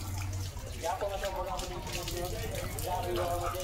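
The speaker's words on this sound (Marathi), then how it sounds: "बसूनच पाणी प्यायला लागला गडी." A German shepherd drinks from running water outdoors as a steady gush of flowing water plays close by, with someone talking over it.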